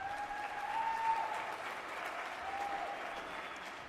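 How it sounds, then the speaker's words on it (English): Audience applause for the Pell City High School Percussion Ensemble at a spring concert, a steady wash of clapping lasting the whole stretch, moderately loud with a faint tonal note threading through. "Give them a round of applause"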